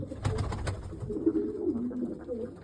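A jumbo pigeon coos in low, soft, rolling calls close by, preceded by a few faint clicks and rustles.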